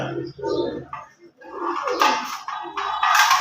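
Pigeons coo softly and repeatedly in the background while people talk over them nearby.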